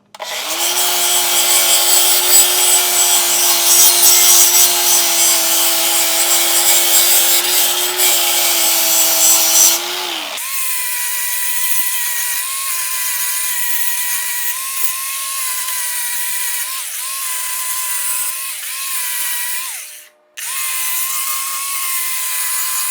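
Wood is being removed from an axe handle to fit the head, a steady, loud abrasive grinding that drops in pitch and grows smoother halfway through, with a brief cutout before continuing, close up and without talking.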